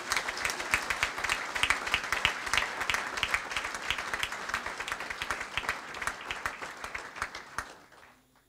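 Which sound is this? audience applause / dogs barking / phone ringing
audience applause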